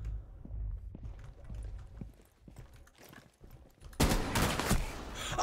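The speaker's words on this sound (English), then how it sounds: "How am I getting shot behind the wall?" Burst of rapid gunfire in a Rainbow Six Siege match, quiet scattered shots and footsteps at first, then a loud, close volley of rapid shots erupting in the last second and a half.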